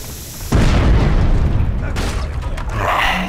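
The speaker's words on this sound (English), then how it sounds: "Give them the bomb!" A bomb explodes in the video game Overlord, a sudden loud boom that rumbles and decays for a few seconds amid game noise, with a second burst near the end.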